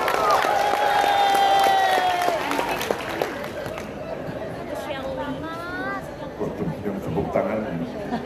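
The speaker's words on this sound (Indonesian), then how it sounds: "tepuk tangan" An audience at a presidential speech in Banjarbaru claps and cheers, a busy crowd roar of applause with voices talking and calling over it that eases slightly partway through.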